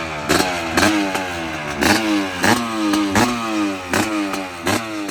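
Kawasaki KX500 two-stroke 500cc motorcycle with an FMF exhaust and custom rear silencer, revving hard in repeated sharp blips, each rising burst falling back to a crackling idle, close and loud.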